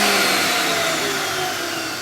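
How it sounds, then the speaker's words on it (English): A Campbell Hausfeld air compressor's electric motor spins freely without compressing because its drive belt is broken, giving a loud, continuous whirring hum that tapers slightly. "The electric motor kind of run away"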